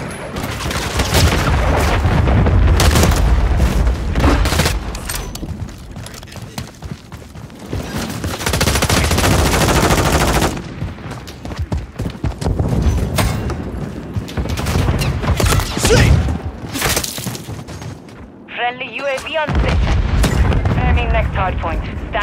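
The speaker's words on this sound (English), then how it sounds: "Hostiles launched a cruise missile." A cruise missile strike in Call of Duty Modern Warfare III unleashes loud, sustained rumbling explosions and heavy gunfire, with dense booms rolling almost continuously and a voice briefly heard over the barrage.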